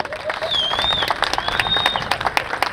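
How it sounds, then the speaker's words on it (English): A crowd applauds city staff during a State of the City address in Marion, Indiana, with dense clapping, a few scattered cheers and whistles, and voices mixed in. "I want you to give them a big, big round of applause"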